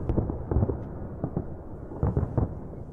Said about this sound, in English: even the fireworks are being rehearsed for the big night